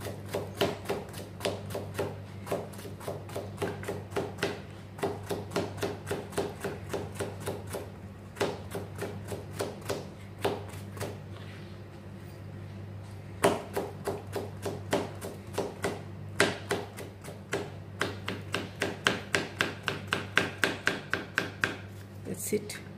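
A knife chops through ridge gourd on a cutting board in a home kitchen, close and steady, rapid taps in bursts with short pauses, a low hum underneath and occasional speech between strokes.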